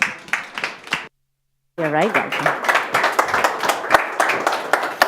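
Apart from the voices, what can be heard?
audience applause for speakers taking the stage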